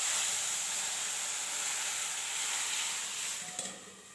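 Boiled eggplant and potato sitting in hot tempering oil, giving a steady, loud hiss of sizzling and steam throughout that eases off toward the end, with no talking.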